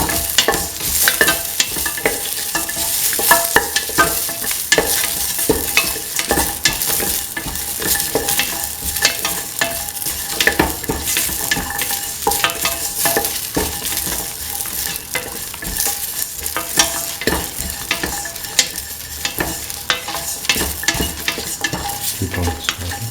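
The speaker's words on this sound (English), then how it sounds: "keep on stirring" A lentil, carrot and rice mixture with ginger and salt fries in a pan, sizzling constantly under brisk, repeated scraping strokes of the spoon.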